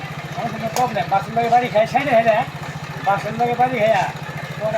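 A motorcycle engine idles with a low, even chugging pulse while people talk over it nearby.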